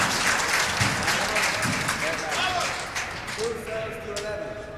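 A crowd applauds and cheers steadily throughout at a men's four-wall handball world championship match, loud and continuous, with some faint background voices.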